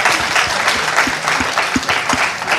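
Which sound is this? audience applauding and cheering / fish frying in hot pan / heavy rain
audience applauding and cheering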